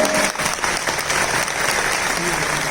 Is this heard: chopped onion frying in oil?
no